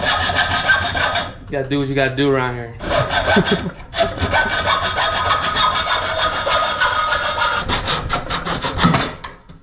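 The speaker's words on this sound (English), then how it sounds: "Never thought I'd see intercooler pipes being cut with a handsaw." Handsaw cutting through a metal intercooler pipe on a Nissan 240sx project car, rapid loud back-and-forth rasping strokes with short pauses, and someone speaks briefly between the cuts.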